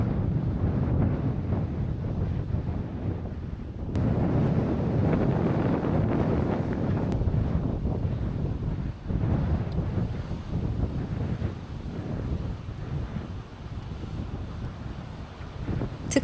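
Strong gusty wind buffeting the microphone on a Sydney coastal cliff walk above crashing waves and stepped rock, a loud continuous roar with rumbling surges throughout.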